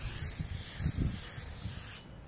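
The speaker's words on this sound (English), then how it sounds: "spray it on." A steady hissing spray of foaming bathroom cleaner onto a car runs for about two seconds with a few soft bursts, then cuts off abruptly.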